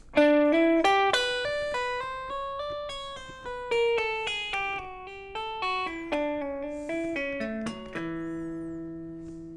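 A clean electric guitar plays a quick hybrid-picked run of single notes, stepping chromatically and ending on a held low note, alone and fairly soft.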